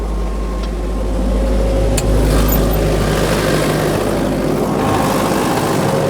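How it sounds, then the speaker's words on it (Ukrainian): An MTZ tractor driving with its pneumatic rear differential lock engaged, a steady, loud, low engine drone that continues throughout without pauses or talk. "трактор іде, як розумієте, колеса крутяться рівномірно"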